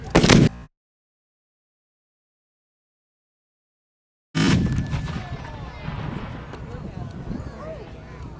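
A mortar fires a shell at a Gettysburg Civil War reenactment demonstration: one loud, sharp boom at the start that cuts off abruptly. After a gap comes outdoor crowd noise with people talking.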